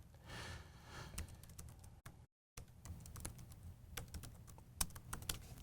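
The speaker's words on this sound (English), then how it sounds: "I was typing the wrong command." Rapid, uneven clicking of keys on a computer keyboard as commands are typed during a coding session, close and clear, with a short silent gap partway through.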